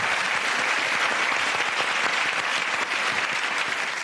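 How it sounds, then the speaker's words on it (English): A studio audience at a comedy panel show gives a round of applause, dense, even clapping from many hands held at steady loudness for the whole stretch, with no talk over it. "a big round of applause to Kieran"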